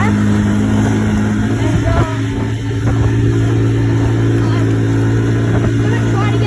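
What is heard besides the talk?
ATV engine while riding laps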